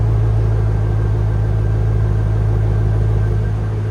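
A C4 Chevy Corvette's 5.7L V8 idles steadily up close through a deep-toned aftermarket exhaust, a loud, even low rumble with a faint lope and no voices.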